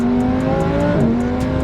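An 800 hp twin-turbo, rear-wheel-drive Lamborghini Huracan accelerates up close with a droning, shifting engine note, while short hissy turbo blow-off bursts recur at a regular rhythm.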